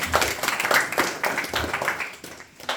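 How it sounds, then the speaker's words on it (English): An audience claps in a quick, uneven rhythm of sharp bursts at a Bhagavad Gita study gathering, sounding moderately close and lasting a few seconds without speech. "Please give a round of applause"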